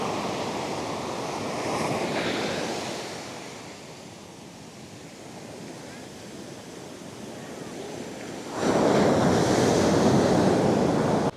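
Heavy ocean surf crashing onto a beach in Las Palmas, Gran Canaria, a continuous roaring wash with wind buffeting the microphone, swelling louder as a big wave breaks near the end.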